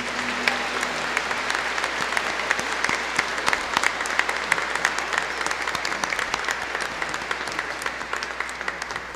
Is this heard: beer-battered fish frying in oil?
no